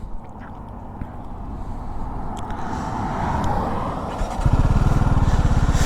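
TVS Apache RTR 310 motorcycle engine running in sport mode, a loud steady drone from close by that builds and then shifts into a harsher, pulsing exhaust note near the end.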